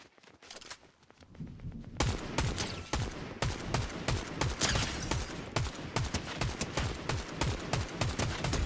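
Rapid automatic gunfire in a Fortnite match rattles on continuously, loud and dense, with sustained bursts of shots filling the whole stretch and no pauses.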